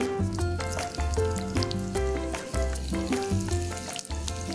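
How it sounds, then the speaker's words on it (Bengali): Onion fries in hot oil in a kitchen, giving a continuous crackling sizzle under loud tonal background music throughout. "তেলটার মধ্যে আমি পেঁয়াজটা ভাজবো।"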